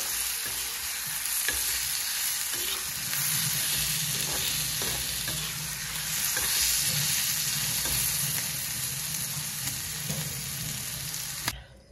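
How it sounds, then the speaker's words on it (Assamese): Fish with narasingha leaves fries in hot oil in a wok and is stirred. A close, continuous sizzle runs throughout with intermittent scraping stir strokes, no talking, and it cuts off abruptly at the end. "আৰু কেৰাহীখনত তেল গৰম কৰি মই ডাইৰেক্ট এইখিনি ইয়াতে ফ্ৰাই কৰিছোঁ"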